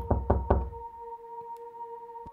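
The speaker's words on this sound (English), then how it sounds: "Was I knocking or was someone else knocking?" Three firm knocks land on a door in the psychological horror escape game FLEE, evenly spaced and close. A steady electronic hum drones underneath and continues after them, with faint ticks later.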